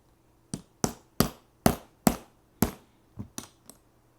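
A trigger pin on a Franchi Intensity shotgun is driven out with a small punch and hammer: nine sharp metallic taps in an irregular rhythm, close and crisp, the last few lighter.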